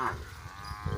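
Cows mooing while grazing out in open rural Gujarat pasture, a low drawn-out bovine call that is close and fairly loud, filling the short moment alone.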